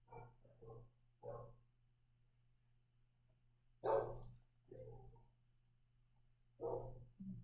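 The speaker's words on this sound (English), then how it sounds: "My dog just realized that Gavin was leaving, so now they are going to fuss" Indoor household dogs barking and fussing, several short bark bursts spaced irregularly over a few seconds against a low steady hum, fairly quiet overall.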